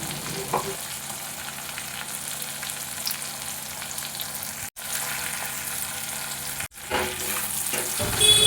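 Spice paste fries with tomatoes in a pan for a rohu fish curry, hissing loudly and steadily up close while being stirred. The sizzle drops out for two brief moments and then swells again at the end.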